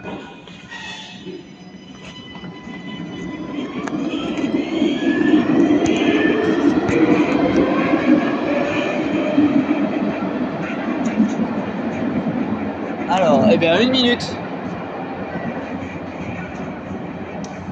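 A line 2 metro train at Port Lympia station in Nice, a steady rumbling roar of wheels and motors building and holding in the underground station, with a brief squealing burst near the end and a short spoken remark early on.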